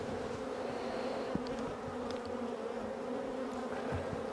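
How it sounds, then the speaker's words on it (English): Honey bees freshly shaken onto a queen excluder drone in a steady, close buzzing hum that holds without a break, dense and continuous, with no voices. "I've got to shake all the bees onto here now"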